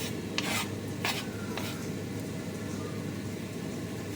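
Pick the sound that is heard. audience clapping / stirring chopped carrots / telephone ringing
stirring chopped carrots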